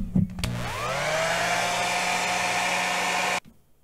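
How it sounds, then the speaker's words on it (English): A handheld blow dryer switches on with a click, whines up to speed and blows with a steady loud rush for about three seconds while drying a paper origami dragon, then cuts off abruptly. "I'm gonna get my blow dryer and blow dry it."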